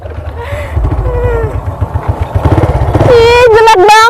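An old, worn-out motorcycle engine putters and chugs in a loose, uneven rhythm close by, its pulses quickening toward the end, while a high whiny voice talks over it.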